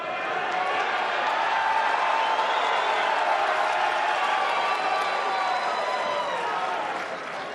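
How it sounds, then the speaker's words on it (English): A large arena crowd at a Mosconi Cup pool match, Team USA against Team Europe, roars and applauds in a loud, sustained wash of cheering that holds steady for several seconds before easing slightly at the end. "The roars of this crowd are making us redundant."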